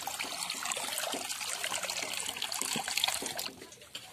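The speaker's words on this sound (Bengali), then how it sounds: "এবারে কড়ার মধ্যে আমি জল দিয়ে দেব ডুমুরগুলোকে সিদ্ধ করার জন্য।" Water is poured into a wok to boil figs, making a close, continuous splashing trickle for about three and a half seconds before it tapers off and the pour stops.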